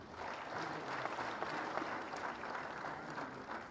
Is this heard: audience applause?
yes